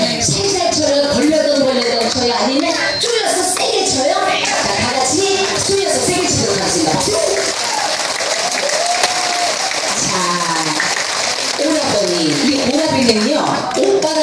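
Members of a singing class clap their hands together in a steady, continuous burst, loud and close, with voices and chatter mixed in throughout.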